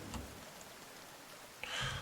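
Steady soft patter of rain in the video game The Forest, faint and continuous, with a brief louder burst of noise near the end.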